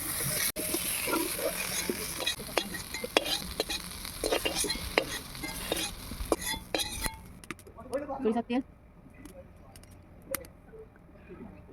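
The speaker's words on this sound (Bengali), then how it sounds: "আলুগুলো ভাজা হয়ে গিয়েছে, আমি এরকম লাল লাল করে ভেজেছি।" Potatoes fried reddish-brown in oil for egg curry are stirred and lifted out of the pan, giving scraping stirs, light clinks and a soft sizzle that fades to quieter handling near the end.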